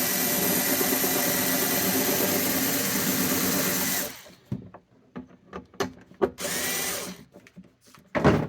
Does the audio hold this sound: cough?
no